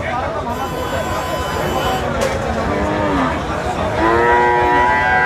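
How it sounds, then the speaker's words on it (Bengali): A local desi cow heifer lows at an outdoor cattle market. Several drawn-out moos sound close by over a constant murmur of crowd voices and market noise. "আমাদের সামনে দেখা যাচ্ছে যে একটি গাই গরু বা গাই বাছুর।"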